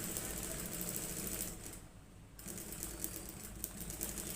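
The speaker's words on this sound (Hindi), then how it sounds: "मैं इधर भी सिलाई लगा लूँगा इस तरीके से" A sewing machine stitching a shirt collar runs with a fast, steady mechanical chatter, briefly easing off near the middle, then resuming at close range.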